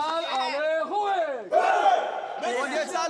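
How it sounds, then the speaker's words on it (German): Studio audience at a televised rap battle on a singing talent show, loud cheering and yelling voices rising into a sustained roar, with sharp shouted bursts swelling again near the end. "Das Publikum geht steil."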